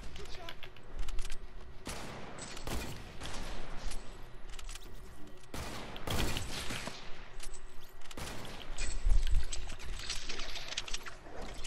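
Video game gunfire in a trick-shot kill, with bursts of rapid shots and sharp reports clustering around several moments across a busy, loud mix, while a player talks over it.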